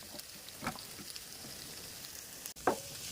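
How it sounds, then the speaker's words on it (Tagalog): Pork fat sautés in a pan with a faint, steady sizzle and hiss. A couple of brief, sharper scrapes of stirring break through it. "so tuloy lang natin na igisa yung ating sahog"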